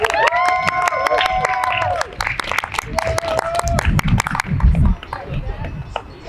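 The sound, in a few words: audience applause for sumo wrestling champions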